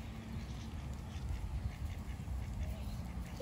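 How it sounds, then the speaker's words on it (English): Ducks being fed, apparently at a goose pond, give faint, repeated quacks over a low background murmur, with no clear speech during the moment. "There's a big duck."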